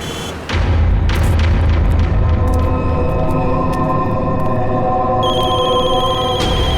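A telephone rings loudly and persistently, as if many calls are coming in, over a heavy booming rumble. Bright ringing tones keep sounding throughout, with no voices.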